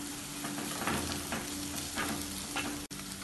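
Crushed garlic, ginger and green chili sautéing in a pan as they are stirred, a dense continuous sizzle with rhythmic stirring strokes, close and even, broken by one brief dropout near the end.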